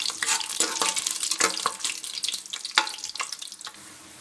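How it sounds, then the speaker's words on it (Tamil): Cashew nuts frying in oil in a pan for Karaikudi dum biryani: a busy, close crackling sizzle with dense sharp pops and stirring clatter that thins out near the end. "பிரியாணியில் முந்திரி பருப்பு கொஞ்சம் முந்திரி பச்சை செவக்கடை வரைக்கும் நல்லா வறுத்துக்கலாம்"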